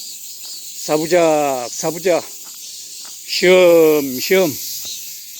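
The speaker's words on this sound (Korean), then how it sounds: "매미 소리를 음악 소리로 삼고" Cicadas drone on a sandy coastal beach near Silmido island, a steady high hiss in the background under a man's close speech.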